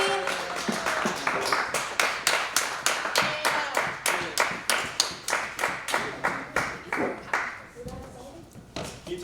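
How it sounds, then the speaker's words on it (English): Rhythmic, evenly spaced clapping from a stand-up comedy audience at a live show in Richmond greets a comedian, loud and close, with voices mixed in near the end. "give her a big round of applause"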